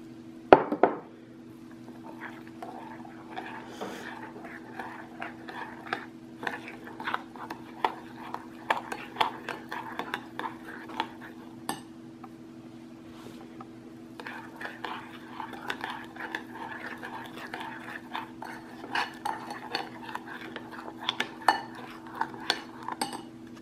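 A spoon stirs peach cobbler batter in a bowl, giving a long run of light, irregular clinks and scrapes against the dish over a steady low hum, with occasional speech.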